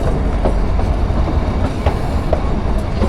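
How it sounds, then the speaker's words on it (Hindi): The Shimla-Kalka toy train pulls out of a station, with a loud, steady rumble of the carriages and rhythmic clacking of the wheels on the rails. "2 मिनट के हॉल्ट के बाद हमारी ट्रेन यहाँ से निकल चुकी है अपने नेक्स्ट डेस्टिनेशन के लिए।"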